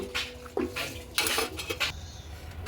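A metal lid is set onto a cooking pot of fish-head curry over a wood-fired stove, giving a few close, sharp metallic clinks and clatters in quick succession.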